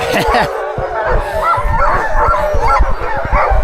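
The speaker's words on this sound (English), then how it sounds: "So the dogs are all ready to go. They're excited." Excited sled dogs bark and yip in rapid, overlapping bursts close by before a run, a loud chorus of high yelps and barks that hardly pauses.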